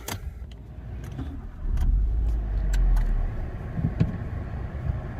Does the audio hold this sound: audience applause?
no